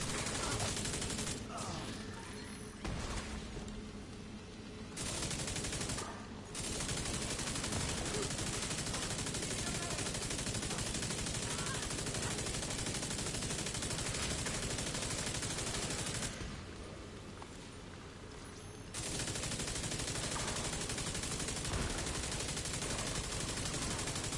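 Enemy machine gun fire in The Division 2, loud sustained bursts of rapid shots with a couple of brief lulls, mixed with other game noise and a voice talking at times.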